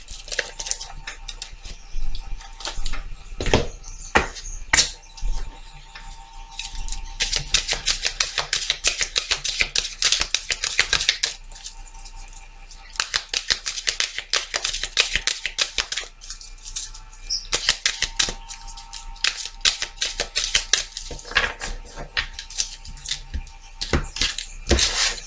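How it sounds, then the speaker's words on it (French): Tarot cards are shuffled and drawn in a long run of dense, crisp riffling and flicking bursts, nearby and steady, broken by short pauses. "je vais tirer la carte message des défunts"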